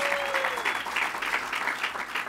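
An indoor crowd at an election unity rally applauds a senator, steady, dense clapping from many hands that carries on throughout at moderate loudness, with a faint voice briefly audible at the start.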